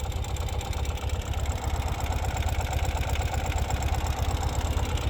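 A 2018 Ural M70 motorcycle engine idles steadily and smoothly, a low even putter with a regular rhythm, close and fairly loud.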